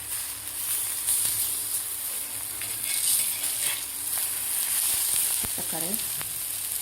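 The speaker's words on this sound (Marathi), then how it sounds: "आता खालची बाजू सुद्धा व्यवस्थित आपल्याला फ्राय करून घ्यायची आहे." Colocasia leaf rolls fry in a pan with a steady, close sizzle and a few soft utensil taps. A faint voice is briefly heard.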